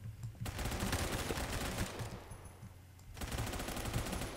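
Rapid automatic gunfire in the Roblox shooter Phantom Forces, fairly quiet but close, with sustained bursts broken by a short lull before firing resumes.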